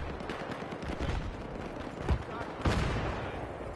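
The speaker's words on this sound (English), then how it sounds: "Oh, there's mortars coming down on me." Mortar shells and gunfire crash down in a Battlefield 3 match, a dense rumbling barrage with two heavier impacts near the middle and end, continuous and fairly loud under a busy battle mix.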